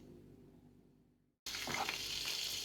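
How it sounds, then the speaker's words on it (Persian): Butter melting in a pan on a gas stove, starting with a faint low hum before a sudden loud, steady sizzle and crackle takes over for the rest of the clip. "ما مسله رو آب میکنیم بالای گاز با"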